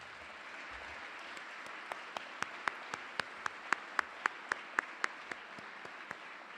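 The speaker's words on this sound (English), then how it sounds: "I want you guys to give your parents a round of applause." An audience at an awards ceremony applauds the parents, a steady spread of clapping joined by sharper individual claps that stand out near the middle, moderately loud and free of talk.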